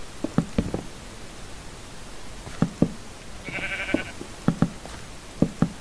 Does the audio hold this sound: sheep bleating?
yes